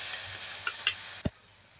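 Red amaranth greens fry in a pan with salt, giving a steady close sizzle with a few light stirring clicks, then a single knock around the midpoint before the sound drops away quieter.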